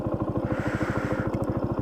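A Benelli motorcycle engine idles close by with a rapid, even, loud thumping pulse throughout and no voices.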